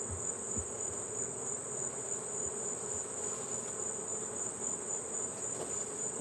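Honeybees buzzing in a dense, continuous drone around an open active beehive during honey harvest, close and steady throughout with a high whine above the swarm hum and no talking.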